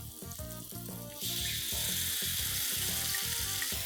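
Honey chilli sauce mixture with sugar and pepper powder cooking in a pan, a steady close sizzle that jumps louder and brighter partway through as liquid hits the hot pan, with a background hum and no talking.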